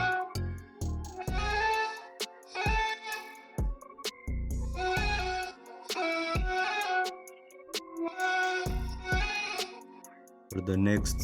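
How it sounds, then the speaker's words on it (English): Pitched-up vocal sample with formants lowered and a sweeping phaser effect, sung in repeated melodic phrases with short gaps between them, loud and processed with no plain speech. "I used this plugin to give it phaser effect"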